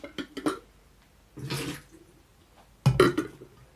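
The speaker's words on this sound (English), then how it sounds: "I'm going to start off by pre-wetting my filter and preheating the brewer." Hot water poured over a paper coffee filter in a brewer to pre-wet it and warm it, heard as two short splashy bursts of pouring separated by quiet, fairly close and moderately loud.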